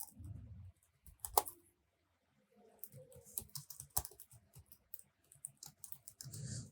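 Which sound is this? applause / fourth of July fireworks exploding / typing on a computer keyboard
typing on a computer keyboard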